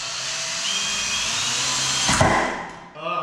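A power screwdriver drives screws into studs while a drywall partition wall is being built, a loud steady whine that ends in a short burst as the screw seats, then a brief restart.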